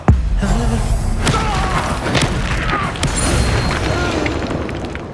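A Confringo explosive spell in Hogwarts Legacy lands with a loud opening boom, followed by rumbling blasts and crashing impacts amid continuous combat noise.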